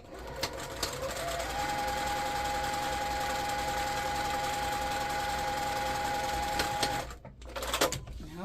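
A sewing machine stitches along the side of a fabric placemat with a steady, loud mechanical whirring and rapid clatter that stops near the end, followed by a few brief clicks.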